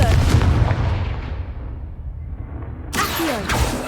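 Confringo fire blast spell in Hogwarts Legacy, a heavy booming explosion that rumbles and fades, followed by a second sharp burst of blast and crackle about three seconds in.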